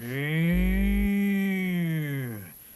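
A single long, loud cow moo holds steady for over two seconds before trailing off, heard alone and close.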